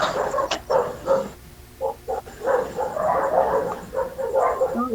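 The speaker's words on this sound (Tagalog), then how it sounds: "Mga aso ko sa kalsada yun." Several dogs bark out on a street in short, irregular bursts over a busy background of outdoor noise, with no talk.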